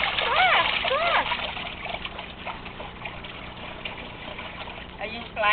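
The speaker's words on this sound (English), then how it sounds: "Are you splashing with your foot or with the ball?" Splashing water in a pool as a child plays, with a few distinct splashes near the start and another burst at the end, mixed with trickling water and a voice in between.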